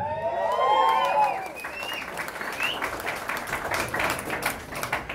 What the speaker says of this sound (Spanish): Señoras y señores, un aplauso.